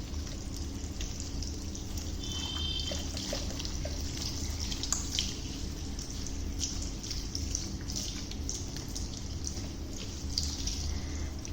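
Running water splashes and trickles steadily, close by, rinsing conditioner from hair, with soft drips and a faint hum underneath.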